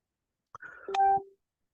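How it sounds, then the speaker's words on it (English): A phone gives a brief pair of electronic notification tones, short and clear against otherwise quiet room sound. "my phone's dinging for some reason"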